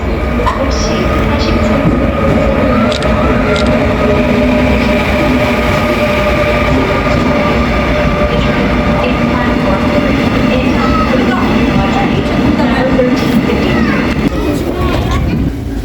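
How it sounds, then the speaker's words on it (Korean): A Busan-bound train rumbles into Gupo Station platform, steady low rolling and rail noise with faint squeals, continuous and close throughout. "부산행 열차가 들어오고 있죠."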